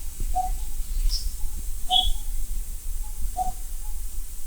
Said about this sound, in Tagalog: Tapos yung mga ibon kaingingay.